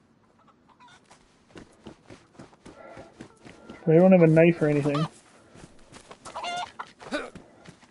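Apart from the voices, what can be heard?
chicken clucking in DayZ video game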